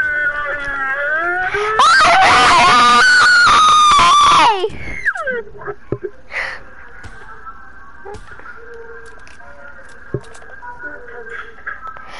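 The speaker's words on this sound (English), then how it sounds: "I want you, one of you guys to scream." A person screams as loud as they can, a long, piercing, heavily clipped shriek of about three seconds that breaks off into quieter gasps, faint voices and room noise.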